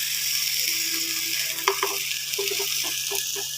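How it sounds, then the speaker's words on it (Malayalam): Fish fries in oil in a pan with a steady, close sizzle, punctuated by a few light scraping and clinking touches of a spoon as pieces are turned. "ആദ്യം കുറച്ച് ഓയിലിൽ നമുക്ക് ഫിഷ് ഫ്രൈ ചെയ്തെടുക്കാം."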